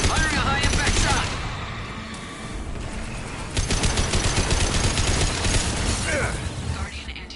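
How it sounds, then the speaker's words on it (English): Heavy weapon fire in the Mass Effect 2 video game: a loud, dense barrage of shots and mechanical clatter that dips briefly, then surges again, with a faint voice underneath. "Firing a high impact shot!"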